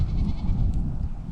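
Goats bleat amid a steady, noisy outdoor background, their calls blending into a dense, continuous wash of sound.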